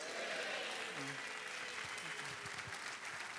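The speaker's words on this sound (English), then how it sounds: "please, a resounding round of applause for this innovator" Sustained audience applause at the commissioning of an AI UniPod innovation hub at the University of Lagos, filling the room evenly for a few seconds with faint voices and a brief tonal sound mixed underneath.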